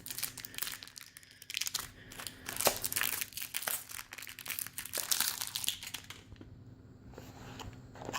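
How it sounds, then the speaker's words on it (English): Plastic wrap crinkles and tears as a Nexus Player remote is unwrapped, close and busy crackling for several seconds before easing off. "I'll get that out of the plastic wrap"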